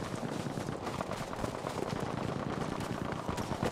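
Dense, continuous battlefield gunfire in the Battlefield V video game, with overlapping shots crackling steadily throughout at a moderate, slightly distant level and no voices.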